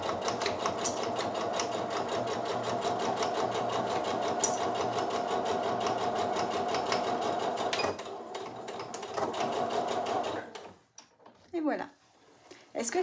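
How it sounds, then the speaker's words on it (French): A sewing machine runs a straight stitch 1 cm from the fabric edge, whirring steadily at close range for about ten seconds before stopping, with someone speaking quietly in French afterward. "je fais un petit point avant-arrière et j'y vais tranquillement"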